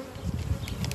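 Bees buzzing inside a vertical beehive, a dense close drone of many wings, continuous and steady through the short moment.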